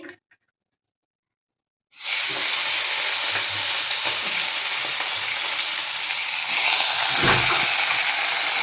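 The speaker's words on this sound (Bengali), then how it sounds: "ফোড়নে কালো জিরে দিয়ে দিচ্ছি দিয়ে এবার সবজিগুলো দিয়ে দেবো টমেটোটা দিয়ে দিচ্ছি" Tomato hitting hot oil tempered with nigella seeds in a pan, a loud steady sizzle that bursts in after a short silence and continues close up, with a brief knock near the end.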